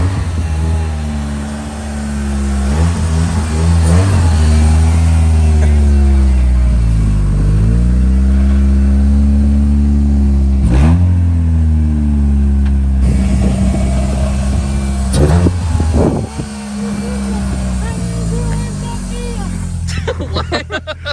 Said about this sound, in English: Surprisingly, the Eclipse actually started right up.